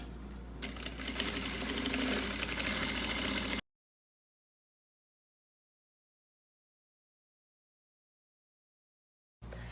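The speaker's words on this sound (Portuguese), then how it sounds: "vou começar a costurar." A sewing machine stitches fabric with a fast, steady mechanical whir and hum, loud and close for a few seconds, then cuts out into silence before briefly starting again at the end.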